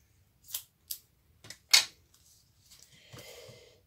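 Several crisp snips of scissors cutting 3D foam tape, spaced a beat apart, followed by a softer rustling scrape of the tape being handled.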